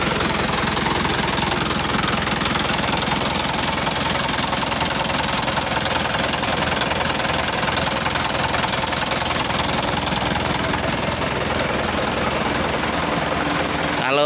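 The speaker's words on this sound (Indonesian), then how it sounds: "Ini saya coba hidupkan mesinnya." A Mitsubishi Canter FE84G truck diesel engine idles with a steady, loud, knocking rumble that runs throughout with no break.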